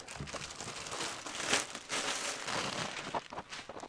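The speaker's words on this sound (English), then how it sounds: "And then a nice, beautiful plastic bag that it sits in." Close crinkling and rustling of a laptop's plastic packaging bag continues in irregular bursts, loud and crackly, with no talking.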